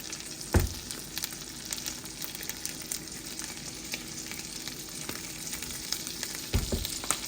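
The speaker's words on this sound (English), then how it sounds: "I have some green beans here that I am stir frying in this bacon grease." Green beans stir frying in bacon grease give a steady, fairly quiet sizzle throughout, with a couple of brief utensil knocks near the start and end.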